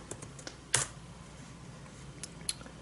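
Light typing on a school Chromebook keyboard: a few soft, scattered key taps with one sharper click, quiet and close in a still room.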